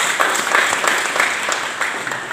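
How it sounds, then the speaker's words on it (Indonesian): A university audience in Kupang applauds students from Papua in an affirmation program, a dense, steady wash of clapping from a large crowd that holds through the whole stretch. "Kita tepuk tangan untuk adik-adik semuanya"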